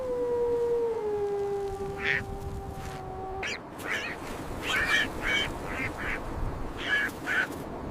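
A sustained howling tone fades out, then several short nasal duck quacks follow in uneven bursts over wind-like background noise.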